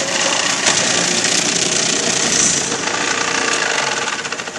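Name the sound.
food processor shredding carrots on pulse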